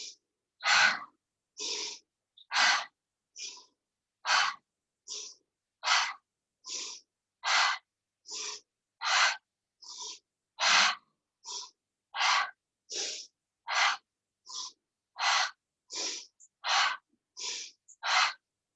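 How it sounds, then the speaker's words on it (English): Slow, deep yoga breaths during a hip-opening flow, about twenty-five audible inhales and exhales in a steady rhythm, each a close, airy rush separated by short silences, with no speech. "you're going to breathe in, drawing the heart forwards, breathing out, melting back"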